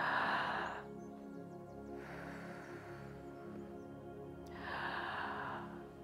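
A deep breath drawn in during a relaxation exercise, soft and close, rising and falling in a few broad airy swells with quiet pauses between.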